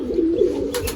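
Big Rampuri pigeon cooing nearby, one low sustained throaty coo, ending in a short rustle.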